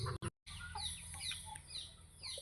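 Chickens cluck in short, repeated calls close by, set against a steady low hum. The birds are on a farm during the rainy season and may have a cold that brings on noisy breathing. A brief break near the start interrupts the calls.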